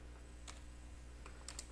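Computer keyboard keys pressed for a shortcut in Excel: a few quiet, sharp clicks in quick clusters against a faint steady hum.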